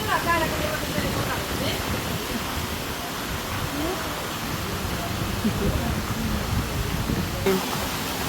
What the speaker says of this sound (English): We've got the lovely waterfall there.